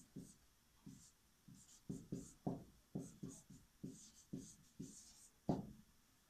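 Chalk or marker writes a sulfuric acid formula on a classroom board. A series of close, soft tapping strokes comes in an uneven rhythm, with a faint voice underneath.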